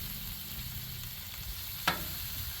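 Water chestnuts searing on a Blackstone griddle give a steady, even sizzle close by, broken by one sharp click near the end, with no voices.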